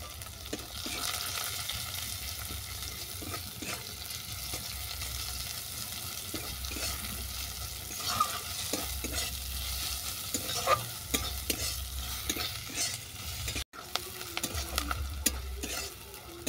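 Chopped onions and slit green chillies fry in a pan with a spice paste, giving a continuous soft sizzle broken by scattered stirring clicks and scrapes, faint and close with no talking.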